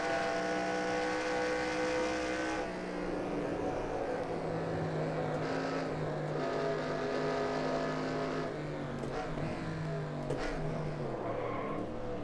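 A NASCAR stock car engine running on track, a loud steady drone close up with strong engine harmonics that shift pitch and drop slightly as it changes speed, continuous and without talk.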